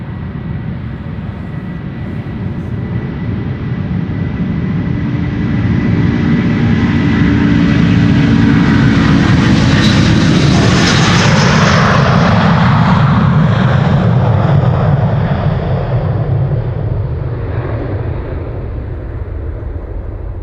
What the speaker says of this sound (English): More Delta auditory violence. This has been Delta Airlines Flight 135 to Detroit, Michigan.